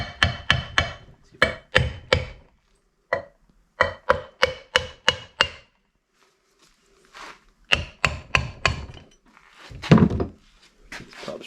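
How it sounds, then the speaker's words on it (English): Light hammer taps on a Duramax LB7 turbo compressor housing ring out in sharp metallic clusters of three to five quick strikes separated by short pauses, close and clear, with a faint scrape near the end. "So I'm going to give a couple light taps."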